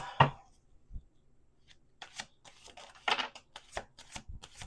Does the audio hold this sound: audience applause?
no